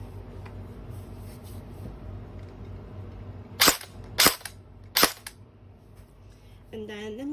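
Three sharp, loud pops from a Honey Badger gel blaster firing single shots in semi-auto mode, evenly spaced about half a second apart over a low steady background hum.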